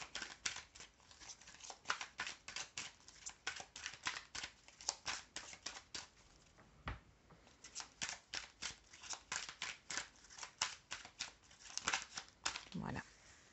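Tarot cards are shuffled by hand, close up, in a long run of quick, crisp riffling bursts with brief pauses between them, fairly quiet overall.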